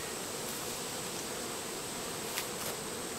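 Dense, continuous buzzing of many honeybees from a hive colony fills the air, steady and close, with no voices.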